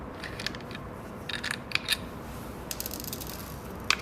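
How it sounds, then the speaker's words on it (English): An M6 hex key and M10 open-end wrench working a fixing bolt and nut beneath the fuel line clip on a CB250F motorcycle, giving a string of light metallic clicks and ratcheting scrapes close up. "Use an M6 hex key and an M10 open-end wrench to remove the fixing bolt and nut underneath the fuel line clip."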